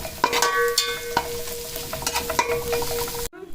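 Two chopped green chilies go into a hot pan while pillau is being cooked, with steady close sizzling and frying, metal spoon scrapes and clinks, and a few sharp clatters, ending abruptly.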